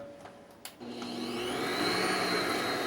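An electric mixer creams a stick of salted butter: a few clicks and knocks, then the motor starts and whirs loudly and steadily, rising slightly in pitch as it runs on.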